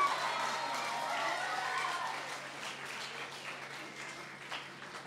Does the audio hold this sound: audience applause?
yes